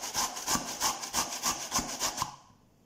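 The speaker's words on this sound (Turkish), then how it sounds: "Rendenin ince kısmıyla patateslerimizi rendeleyelim." Raw potatoes rubbed on the fine side of a grater in a home kitchen, a quick, even series of about eight scraping strokes up close, then silence.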